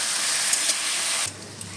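Vegetables sizzling in hot oil in a pan for mixed dal, a steady bright hiss that drops abruptly to a quieter sputter with a low hum partway through.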